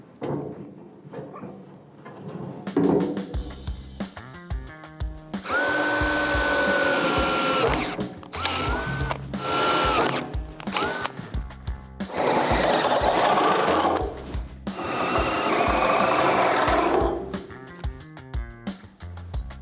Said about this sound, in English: I'm gonna drill those out